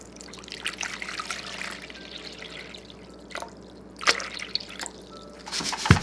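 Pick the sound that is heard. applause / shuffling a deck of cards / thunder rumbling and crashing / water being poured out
water being poured out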